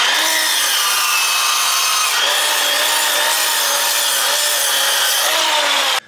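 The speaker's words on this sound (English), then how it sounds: "Normally when I cut boards, I cut a little bit off the end just to make sure it's a nice square cut." A hand saw cuts steadily through a board made of three glued 2x4s, with continuous rasping strokes running for about six seconds, close and fairly loud, and no voices.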